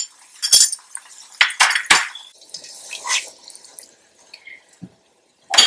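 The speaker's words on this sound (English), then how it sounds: "I'm going to add the minced ginger and garlic paste." Minced ginger and garlic paste going into a cooking pot for haleem, heard as a few soft wet drops and utensil clinks against the pot, close and fairly quiet, with brief gaps between them.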